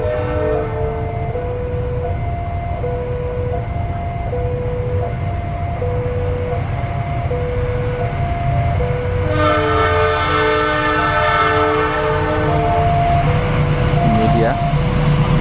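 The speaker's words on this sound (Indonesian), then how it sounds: "Oke, S35-nya seperti apa kecepatannya melintas di stasiun Srowot." A test train passes at speed through Srowot station, its horn sounding in repeated two-tone blasts over a loud continuous rumble of wheels on rails that swells as it goes by.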